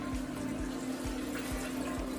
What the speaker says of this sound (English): Now I'm going to add my water, which I'm going to turn into chicken broth.